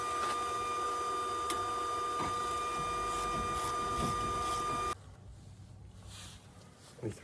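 A Solary induction bolt heater, used on a 2010 Silverado during wheel bearing work, runs with a steady high-pitched electronic whine and buzz for about five seconds, then cuts off abruptly, leaving quiet room noise and a faint voice.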